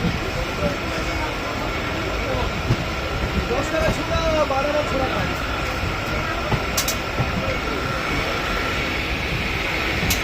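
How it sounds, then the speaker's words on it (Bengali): A local train runs on the Krishnagar line toward Badkulla in West Bengal, a loud, continuous rumble with a steady roar held close throughout. "এই যে আমাদের ট্রেন আসছে"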